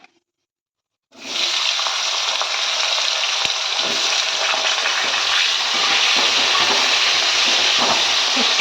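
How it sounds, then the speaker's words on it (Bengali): Potato and raw banana pieces fry in oil with whole cumin seeds. After a brief silence a loud, steady sizzle starts up close and carries on evenly, with faint crackles. "একটু ভাজা ভাজা করে নেব"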